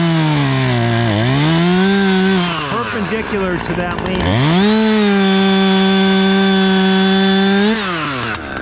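A chainsaw making brake cuts on a dead ash tree, loud and close, its engine revving high, dipping briefly and surging again through the cut, while someone talks over it.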